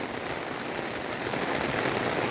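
Heavy rain pours down in a Gujarati village under dark clouds, a thick, unbroken roar of drops striking surfaces close by, steady throughout with no talk.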